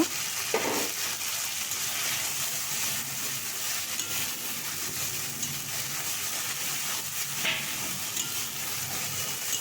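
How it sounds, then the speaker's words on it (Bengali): A paste of chili and ground coriander and cumin, loosened with its grinding water, sautés in a pan for spiced potato curry: a steady, hissing sizzle close by, with a couple of soft bubbling bursts and no voices. "ওটা প্রথমে দিয়ে দেবো ওটাকে একটু বাটনার জলটা দিয়ে ভালো করে কষিয়ে নেব"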